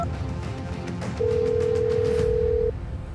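A single steady telephone tone sounds for about a second and a half over a low background hum, like a call being placed.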